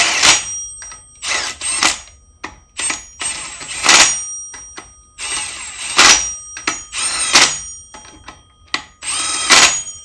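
Power tool driving and tightening bolts on a Kennedy adapter plate joining a Subaru engine to a VW transaxle, loud repeated whirring bursts of a second or so each with short pauses between, close up and alone.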